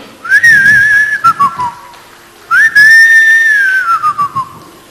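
Someone whistles the background melody of a Tamil film song in place of a flute, two long gliding phrases, loud and close, each ending in a few short trilled notes over soft accompaniment.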